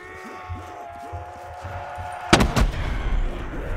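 Cluster bombs in a Black Ops 3 Zombies custom map burst in a quick string of loud, sharp explosions partway through, followed by a rumbling tail. Quieter game sounds come before the blasts.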